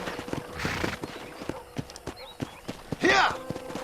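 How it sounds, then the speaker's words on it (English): Horse hooves clip-clop at a walk across a ranch in Red Dead Redemption, a steady series of close, light hoofbeats, with a short horse whinny or snort near the end and some speech-like sound mixed in. "let's see if you can still ride a horse"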